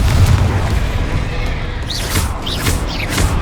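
A Confringo fire spell from the Hogwarts Legacy game bursts with loud, deep, rumbling booms, topped by whooshing, chirping magical streaks in the later half.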